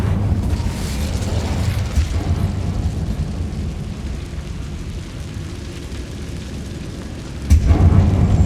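Fire spell cast in Hogwarts Legacy inside an abandoned mine: a loud rumbling whoosh of flame and booming low roar, sustained throughout with a fresh heavy burst near the end.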